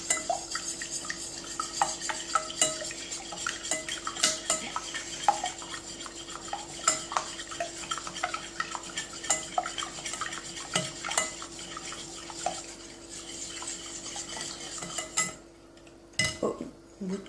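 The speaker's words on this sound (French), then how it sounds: "on va battre les œufs" Eggs beaten by hand in a bowl for a French yogurt cake, a long run of quick, rhythmic whisk or fork taps and clinks against the bowl at close range, slowing and stopping near the end with no talk.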